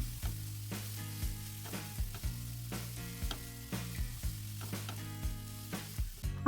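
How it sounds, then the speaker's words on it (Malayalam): Chopped banana flower sizzles as it is stir-fried in a pan, with regular scraping strokes of a spoon or spatula against the pan over a continuous frying hiss. "ഈ ഒരു ടൈമിൽ നമ്മൾ അരിഞ്ഞു വെച്ചിരിക്കുന്ന വാഴക്കുടപ്പൻ നമുക്കിതിലേക്ക് ചേർത്ത് കൊടുക്കാം"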